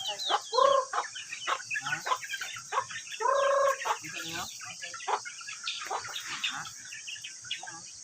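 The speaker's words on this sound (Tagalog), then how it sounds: "Mamahog ta sa manok." Chickens cluck and squawk close by during feeding, a busy run of short calls with a couple of louder drawn-out squawks.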